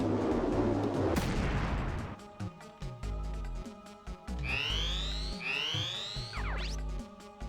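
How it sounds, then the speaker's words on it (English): Missile barrage in Front Mission 3, a rumbling blast followed by a rapid series of thumping launches and rising whistling tones, loud and close, no talking. "Eat those missiles."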